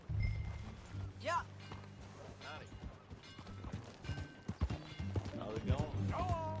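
Horse hooves clip-clopping at a steady riding pace in a Red Dead Redemption 2 scene, close and rhythmic, with a whinny and voices talking over them.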